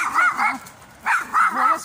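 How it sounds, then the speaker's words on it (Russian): A dog on a morning walk outdoors barks close by in two quick bursts, each a pair of sharp, high yaps separated by a short pause. "Сама первый раз услышала, как она гавкает."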